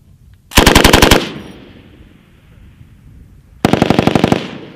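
Two loud, close machine gun bursts during US military war game exercises, each a rapid string of about ten shots, separated by a quieter gap with faint background noise.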